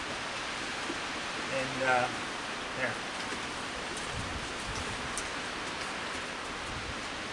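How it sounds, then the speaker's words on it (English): Heavy rain pours down steadily outdoors, a dense even hiss throughout, with a voice briefly speaking near the start. "It's pouring down rain"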